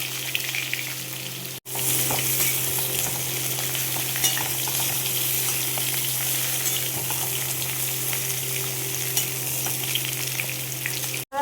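Vegetables for a drumstick-stem chorchori hit hot oil with five-spice tempering and sizzle loudly and steadily, a dense close frying hiss after a brief pause near the start, with no voices.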